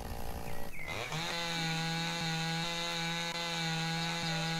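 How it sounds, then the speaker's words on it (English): A chainsaw in the video game Lumberjack's Dynasty revs up and settles into a loud, steady buzzing drone as it cuts into a tree, close and continuous with no talk. "this should be the middle chainsaw"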